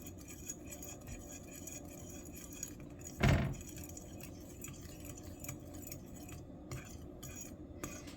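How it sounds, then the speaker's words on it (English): Salt and flour stirred together in a bowl with a utensil, quiet scraping and light clinks close up, with one louder knock partway through and no talking. "I'm going to mix the salt and the flour up"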